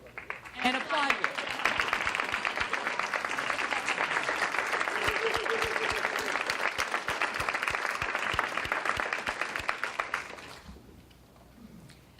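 Audience at a keynote talk applauding, long steady clapping with crisp individual claps, a voice briefly audible before it tapers and stops.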